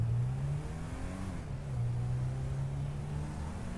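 A 1600cc automatic Honda Civic accelerating, its engine droning steadily from inside the cabin with a low hum that rises and dips slightly as it pulls, no talk.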